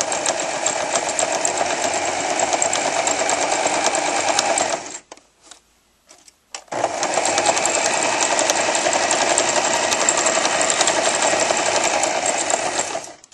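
A sewing machine stitches fabric for a headband with a fast, even mechanical whir, runs loud and close, stops briefly near the middle, then resumes its steady chatter to the end.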